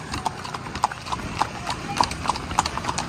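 Horses ridden on a road clip-clop steadily, several sets of hooves striking in an irregular overlapping rhythm, close and distinct, with faint voices in the background.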